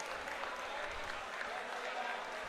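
A football crowd at a Copa Paulino Alcantara quarter-final applauds a long-distance shot, producing a steady wash of distant clapping and cheering, with a voice faintly audible beneath it.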